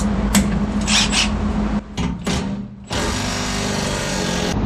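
A power tool works on a vehicle's body mount bolts in short whirring bursts broken by brief pauses and clunks, ending in a longer sustained run close by.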